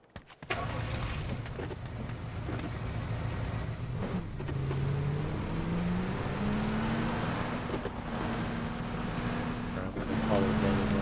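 Truck in the PUBG game, its engine starting and then running steadily, with pitch rising and falling as it drives, moderately loud and with a voice talking over it at times.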